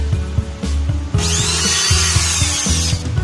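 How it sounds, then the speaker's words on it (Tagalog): A power drill drives a screw into a wooden bedroom cabinet, a close, loud whirring spin with rhythmic pulsing as the screw bites, then rising to a harsher pitch as it seats. "Lagyan natin ng screw kasi paano maulog."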